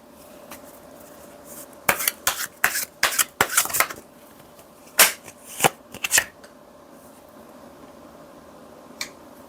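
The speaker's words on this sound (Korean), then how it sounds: "우리 1번 분들을 위한 메시지 카드 한번 뽑아 볼게요" A deck of tarot message cards is shuffled close up, giving a quick run of crisp, loud riffling bursts followed by a few scattered taps and then quiet.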